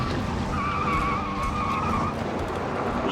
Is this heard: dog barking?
no